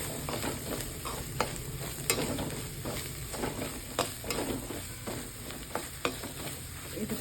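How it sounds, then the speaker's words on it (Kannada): Ground turmeric, chilli, coriander and cumin powders fry in a pan with a steady close sizzle, broken by repeated sharp clicks of a spoon stirring and scraping against the pan. "ಈಗ ಒಂದು ಚಿಟಿಕೆ ಅರಿಶಿನ, ಅರ್ಧ ಸ್ಪೂನಷ್ಟು ಚಿಲ್ಲಿ ಪೌಡರು, ಅರ್ಧ ಸ್ಪೂನಷ್ಟು ಧನಿಯಾ ಪುಡಿ, ಒಂದು 1/4 ಸ್ಪೂನಷ್ಟು ಜೀರಿಗೆ ಪುಡಿ ಹಾಕ್ಕೊಂಡು ಫ್ರೈ ಮಾಡ್ತೀವಿ"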